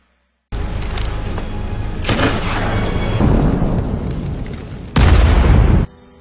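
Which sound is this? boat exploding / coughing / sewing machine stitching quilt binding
boat exploding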